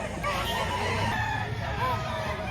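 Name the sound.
rooster crowing at market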